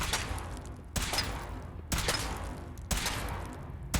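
Weapon shots ring out in Fallout 4, four loud sharp bursts at roughly one-second intervals, each trailing into a short rumbling decay with no voices over them.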